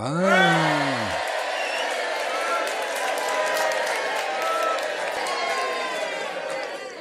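A crowd claps and cheers loudly, continuous applause sustained throughout, with a voice calling out briefly at the start.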